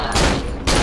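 Two quick, loud gunshot bursts ring out in the horror video game Cry of Fear, one near the start and one at the end, with a short gap between them.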